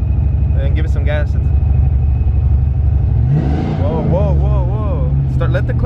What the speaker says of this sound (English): Now let it go slowly and give it some gas.